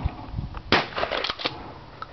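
A shotgun fires at a clay target outdoors, one loud sharp report followed by a brief echo, with a few fainter crackles after it.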